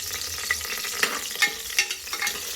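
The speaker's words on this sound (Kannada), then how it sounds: "ಕೊತ್ತಂಬರಿ ಸೊಪ್ಪು ಹಾಕ್ಕೊಂಡು ಚೆನ್ನಾಗಿ ಫ್ರೈ ಮಾಡ್ಕೊಳ್ಳಿ" Coriander leaves fry in hot oil for sambar, giving a steady bright sizzle with light stirring scrapes and small crackles throughout, close and alone.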